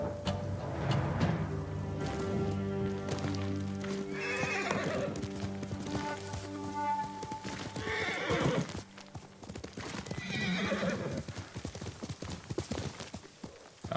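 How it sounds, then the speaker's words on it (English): Horse in the Ghost of Tsushima video game neighs and whinnies over steady clip-clopping hooves, with several whinnies over about fourteen seconds against a continuous musical score, no speech. "Come on, horse."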